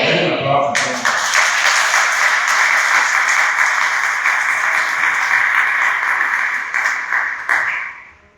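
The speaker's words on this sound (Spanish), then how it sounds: "Hay un aplauso." A church congregation at a Bible school campaign service breaks into loud, sustained applause, dense clapping lasting several seconds before fading out at the end, with voices mixed in at the start.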